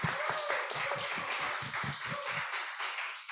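A live audience at a diaspora dialogue event claps in a short burst of applause, moderately loud and close, tapering off after a few seconds.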